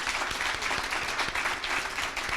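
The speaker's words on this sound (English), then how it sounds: "I think that's worth a round of applause, too." Audience applause at a university nursing building gift announcement, a dense steady wash of clapping hands held at an even level throughout, close and full with no voices over it.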